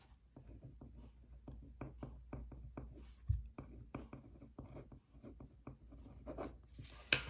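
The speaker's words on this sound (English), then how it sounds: "So let's write it out here." Pen writing on a paper cash envelope, a run of close, quiet scratchy strokes in an uneven rhythm with short pauses between words.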